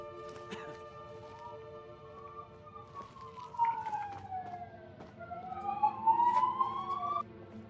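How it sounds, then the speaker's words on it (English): A siren wails in the background during a Skyrim play session, its pitch sweeping down then rising again in a steady loud glide, with a low murmur underneath. "We have some sirens going on."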